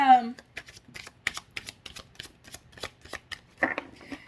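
A Golden Art Nouveau tarot deck is shuffled by hand close up, giving a quick run of soft papery riffles and taps after a brief spoken word.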